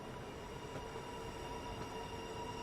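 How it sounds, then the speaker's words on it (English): A Southeastern high-speed train passes near Faversham on a snowy route in Train Sim World 2, a faint, steady rolling rumble with light wheel hiss throughout. "Another train."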